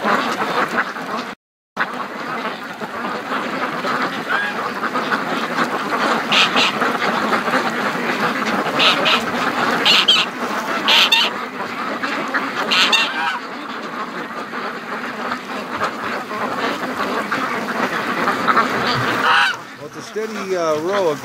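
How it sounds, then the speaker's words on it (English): Many free-range ducks quack and honk continuously nearby, a dense noisy flock calling over and over, with a brief moment of quiet early on. "Row of ducks here."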